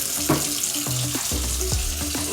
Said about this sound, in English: make your dish water so you can clean your dishes